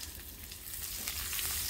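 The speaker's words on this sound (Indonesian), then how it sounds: "Saya mau tumis bawang merah 2 sendok makan atau dari 5 siung bawang merah." Shallots sauté in hot frying oil in a wok, giving a steady, soft sizzle and crackle throughout, with no voices.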